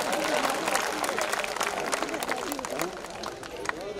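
An audience at a 2019 Hindi kavi sammelan poetry recital claps in a dense, continuous burst of applause that gradually thins out, with crowd murmur and voices mixed in.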